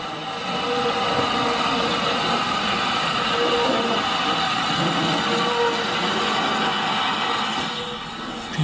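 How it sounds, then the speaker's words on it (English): Ffestiniog Railway steam locomotive David Lloyd George arrives with a down train at Tan-y-Bwlch station, a steady, sustained rumble of rolling stock with faint squealing tones that holds and eases near the end. "David Lloyd George arrived with the down service train at Tanybwich"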